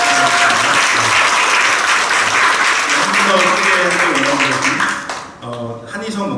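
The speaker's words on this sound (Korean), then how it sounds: "우리 박수로 한번" Applause fills a church hall during a Korean ordination service in Penang as guests are introduced, a dense, steady crowd clapping that holds loud for about five seconds before dipping, with voices mixed in.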